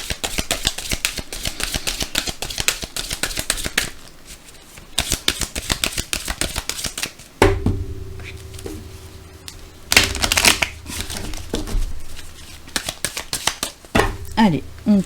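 A deck of oracle cards being shuffled and cut by hand: rapid, close riffling flutters, then softer card slaps and taps, with someone talking over much of it.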